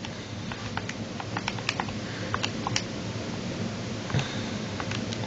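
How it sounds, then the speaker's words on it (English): Rapid light button taps on a calculator, a loose run of small dry clicks at an uneven pace, close up and soft over a faint hiss, with no voices. "let's go ahead and type that into the calculator"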